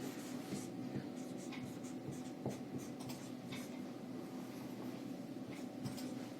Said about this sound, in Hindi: अब हिंदी में लिख दे रहे हैं